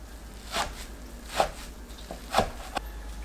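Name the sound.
knife chopping sea lettuce (parae) into small pieces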